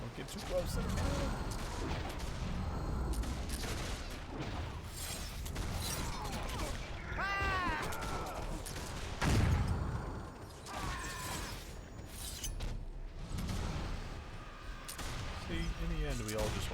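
Great cannon fire and battle mechanics in the online fantasy war game Warhammer Online, a busy run of sharp bangs, clanks and creaking with a heavier thump near the middle, continuous and close.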